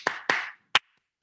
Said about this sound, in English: So you keep clapping your 4.